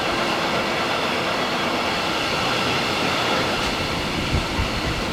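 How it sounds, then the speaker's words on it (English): A steady, loud rumble of a moving freight train in the Balkans, heard from on board, with continuous rattling and clatter and no voices. "I really like that we're finally riding serious trains"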